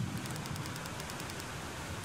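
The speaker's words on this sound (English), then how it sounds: "But in any case, we shouldn't stay out in the rain for so long." Rain falling in a video game, a steady, even hiss of dense rainfall that stays constant throughout the short stretch, soft and continuous, with no talk over it.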